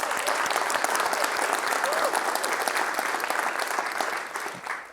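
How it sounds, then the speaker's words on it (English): A conference audience breaks into loud, sustained applause, a dense wash of many hands clapping evenly throughout and tapering off slightly at the very end. "Let's all do a round of applause for the organizers for putting this awesome event together."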